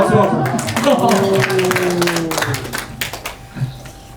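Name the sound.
congregation clapping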